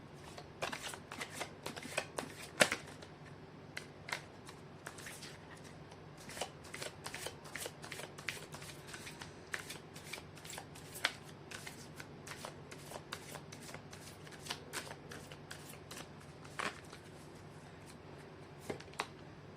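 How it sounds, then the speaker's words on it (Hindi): Tarot cards being shuffled by hand, a steady run of crisp riffling flicks and soft slaps close to the mic, continuing throughout with no talking over them. "कर लेती हूँ कार्ड की शफलिंग।"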